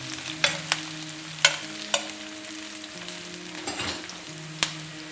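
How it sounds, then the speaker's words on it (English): Onions sweat in a pan with a soft, steady sizzle, broken by several sharp clicks and scrapes of stirring, close and fairly quiet, with a faint tonal hum underneath and no talking. "we're going to start by tossing in the onions"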